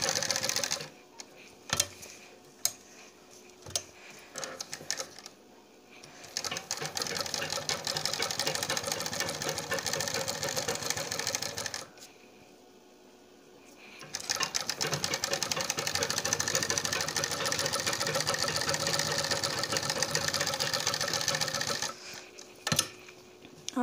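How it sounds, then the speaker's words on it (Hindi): A sewing machine runs in long steady stitching bursts along a suit neckline, loud and close, pausing twice briefly between runs. "हम इसी तरह ही सारे पे सिलाई लगा लें"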